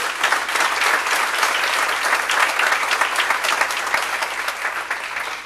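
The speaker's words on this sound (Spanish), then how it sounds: "Denle un aplauso al Señor" Sustained, loud applause from a large church congregation, dense clapping filling the space steadily throughout without a break.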